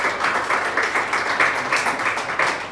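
Applause from the audience at a live sommelier contest, a dense, even round of clapping from a crowd, sustained and moderately loud throughout.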